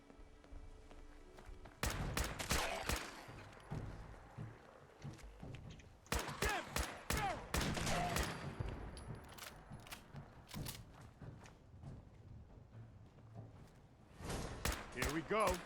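Gunfire in Fallout 4 comes as loud, rapid bursts of shots separated by quieter gaps, with someone talking in between.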